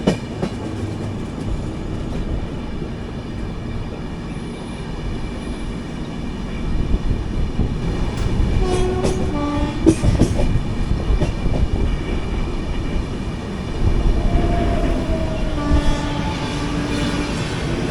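The Deccan Queen train runs from Pune to Mumbai with a steady, close rolling rumble heard from on board, broken by a few tonal horn-like blasts midway and near the end.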